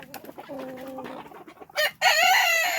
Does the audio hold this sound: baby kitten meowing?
no